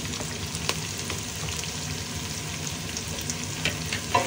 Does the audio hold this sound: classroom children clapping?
no